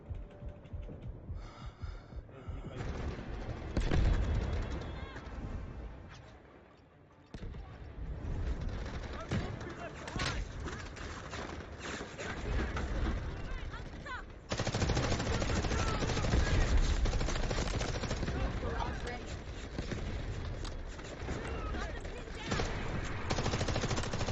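Gunfire in the video game Delta Force during a co-op match, with rapid automatic bursts and blasts running almost continuously, loud and dense, while a player talks over it.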